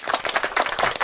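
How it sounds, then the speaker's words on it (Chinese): An audience applauds to welcome Khenpo Tsultrim Lodro at a Buddhist talk on monastic precepts, a dense burst of clapping across the whole second, loud and close with no voices over it. "让我们掌声欢迎慈城罗珠堪布。"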